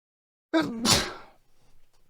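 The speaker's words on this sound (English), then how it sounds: "I gotta sneeze" A single sharp, close sneeze bursts out after silence, followed by a brief breathy trailing sound.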